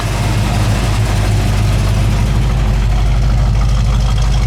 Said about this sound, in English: It's got a great dual exhaust sound, nice brand new dual exhaust that comes out the back.